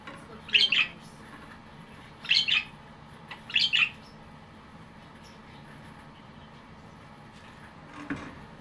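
A budgie gives three short bursts of bright chirping and squawking, each about half a second long, close by in a quiet room with a low background hum.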